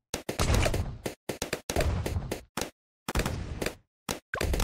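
Cannon tower firing in Bloons TD 6: a rapid run of sharp, loud game blasts in quick bursts with brief gaps, some shots clustered into volleys, with no talking.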